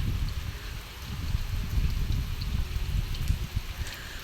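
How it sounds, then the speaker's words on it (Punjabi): Heavy rain pours down on a village in Punjab, a steady broadband hiss of downpour over a low, uneven rumble, continuous and fairly close, with no voices. "ਹੁਣ ਫੇਰ ਉਨੀ ਜ਼ੋਰ ਦੀ ਮੀਂਹ ਆ ਗਿਆ"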